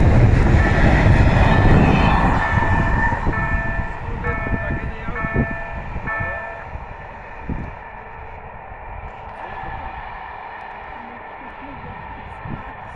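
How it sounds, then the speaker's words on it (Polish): A heavy freight train of tank wagons rumbles past a level crossing nearby, its low roar and clattering wagons fading gradually, with a voice speaking briefly over it. "Jedzie pociąg cysterną, jedzie."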